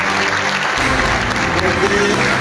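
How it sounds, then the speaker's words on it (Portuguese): Applause for the mayor at a municipal health department event handing out equipment to community health agents, a dense steady crowd clapping across the whole stretch with a speaking voice underneath. "E aqui eu peço uma salva de palmas para ele."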